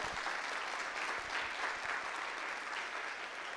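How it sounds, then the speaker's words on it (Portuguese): Sustained, even applause from an audience at a Brazilian panel on ten years of the racial quota law, a continuous wash of clapping with no talk over it. "mais palmas para essa mulher"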